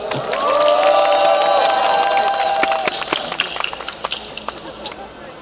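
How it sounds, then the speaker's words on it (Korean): A crowd at a citizens' rally in Daejeon applauds and cheers loudly, with whistles and shouts rising over steady clapping that thins into scattered claps near the end. "큰 박수 부탁드리겠습니다"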